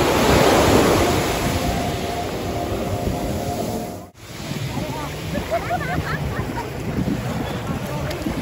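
Ocean surf rolls in steadily on Baina beach in Goa, a loud continuous wash of waves with wind buffeting the microphone, broken by a brief dip midway.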